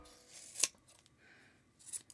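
Scissors snip crochet yarn while trimming a Christmas gnome toilet paper cover, a sharp close cut near the middle and another lighter snip near the end, with soft handling rustle between.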